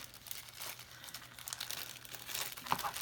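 A small plastic Ziploc baggie is handled up close, crinkling and rustling steadily, with a sharper crackle near the end.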